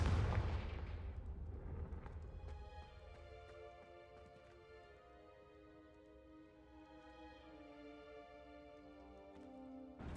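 A Confringo fire spell blasts out in Hogwarts Legacy, a loud explosive burst at the start that decays into a ringing tonal magical tail with sustained harmonic tones, alone without talk.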